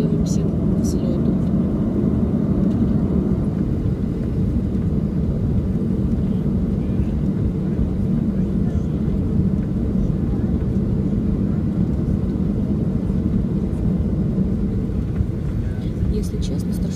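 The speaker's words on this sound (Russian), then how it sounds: "Сейчас, как вы видите, уже выехали на взлетную полосу и готовимся к взлету." Airliner rolling onto the runway before takeoff, following a delay over a fault: a steady, loud low engine rumble and cabin drone lasting throughout with no clear changes, a voice talking over it.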